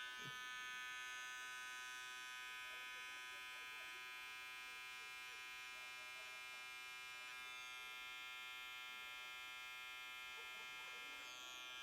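Electric hair clippers buzzing steadily and close while cutting a taper around the ear, a continuous bright whine with no pauses.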